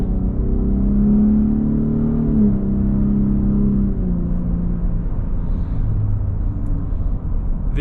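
A deep, continuous exhaust rumble from a Gen 3 Ford Raptor pickup truck, steady and loud, with a low tone that rises slightly and then settles as it revs.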